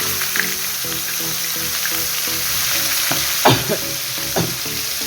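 Garlic and onion sizzle and fry steadily in a pan for fish bhuna, a constant loud hiss with a few clinks and scrapes of stirring near the end.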